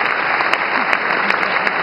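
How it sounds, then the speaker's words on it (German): A crowd applauds steadily at the 2011 German Developer Award ceremony, a dense wash of clapping filling the short moment without pause. "Vielen Dank, großer Applaus nochmal für euch."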